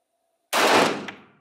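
A single loud, sharp pistol shot from a Canik Rival handgun during a shooting test in Marmaris, Türkiye, fired close by after a moment of quiet and fading into a short echo.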